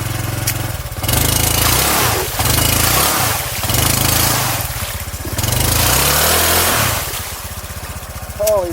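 A 2021 Honda Trail 125 ABS motorcycle engine drones loud and close while riding, swelling and easing through throttle changes with brief dips between pulls.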